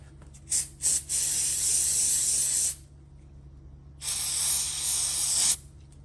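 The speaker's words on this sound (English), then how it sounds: "the next thing I'm gonna do is wipe off this surface with some braking parts cleaner to make sure it's nice and clean" Brake parts cleaner hisses from an aerosol can onto the cylinder head surface of an LSA 416ci engine, with a few short bursts followed by two long, steady sprays separated by a pause, close and clear.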